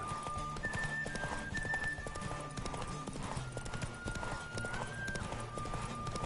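Steady rhythmic hoofbeats of a galloping horse in The Witcher 3 with game music tones layered over them, continuous and fairly close.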